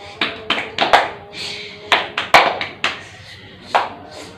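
Children in a classroom clapping a short 'tepuk diam' routine, with a series of sharp, uneven hand claps in quick bursts, close and fairly loud, with a voice faintly in the background.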